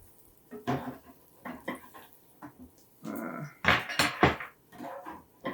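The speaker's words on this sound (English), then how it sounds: "I'm going to cut it in half in the skillet." An omelet is cut in half in a skillet, producing a series of close scraping and tapping sounds of a utensil against the pan, irregular and moderately loud, with a busier cluster of scrapes near the end.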